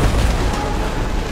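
Sherman tank destroyed in the World War II game Hell Let Loose, a loud, deep rumbling explosion with a heavy low-end boom that sustains for the whole moment without a clear decay.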